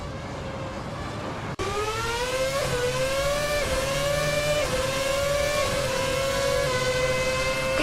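Race cars in an AI car racing video game whine past with a loud, sustained engine tone that rises and dips through gear shifts, with a sharp cut near the start and a steady roar throughout.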